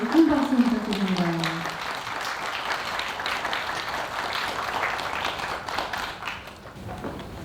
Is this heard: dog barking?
no